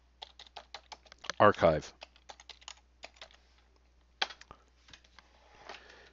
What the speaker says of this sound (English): I'm going to type in NEMS Tools